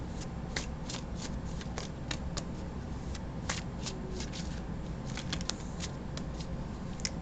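Tarot cards being shuffled by hand at close range, a continuous soft riffling and flicking with sharp little snaps scattered throughout, over a steady low background hum.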